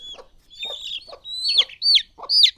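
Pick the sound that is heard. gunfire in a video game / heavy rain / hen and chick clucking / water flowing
hen and chick clucking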